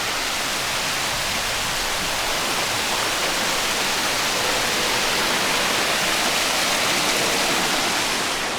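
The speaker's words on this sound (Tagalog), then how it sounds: "At mini waterfall." Steady broadband rush of a small waterfall along the trail near Multnomah Falls in Corbett, Oregon, close and loud, filling the whole stretch without a break.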